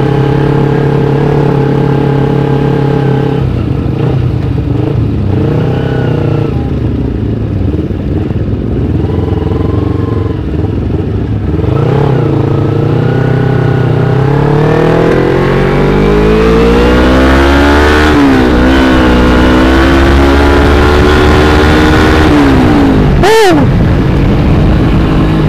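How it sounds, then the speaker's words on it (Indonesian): A carbureted Kawasaki Ninja 250 motorcycle on a group Sunday morning ride, its engine loud and close throughout, revving repeatedly with rising and falling pitch sweeps through gear changes, ending in a sharp burst of throttle. "Dan gua nyobain lagi si Ninja Karbu ini guys"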